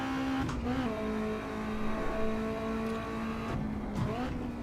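Simulated Toyota 3SGE engine in Assetto Corsa EVO, driven with heel-and-toe downshifts: a steady droning engine tone with a few quick rises and falls as the throttle is blipped, two clear blips near the end, with no talk over it.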